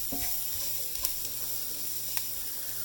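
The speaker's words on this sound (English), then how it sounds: "We're going to let those toast in the pan for about, I don't know, about a minute." Curry spices for chicken tikka masala toasting in hot oil in a pan, a constant close sizzle with a few stirring scrapes and small pops.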